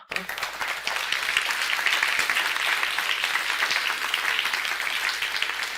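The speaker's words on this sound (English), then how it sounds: "Round of applause for" Conference attendees at the Res Artis gathering break into applause after a panel, a sudden onset of many hands clapping that holds a brisk, crackling, sustained level to the end.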